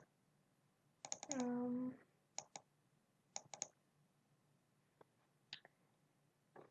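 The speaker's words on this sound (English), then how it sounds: "so I'm just typing I and I cannot see it, so let's search" Computer keyboard typing, a few sparse close clicks and taps with one brief squeaky burst, faint and spread across a quiet room.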